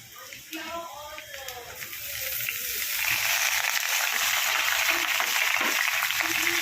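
Ridge gourd, pumpkin and beans drop into a hot pan of oil, setting off a loud, steady sizzle and frying hiss that swells and holds, with faint stirring underneath.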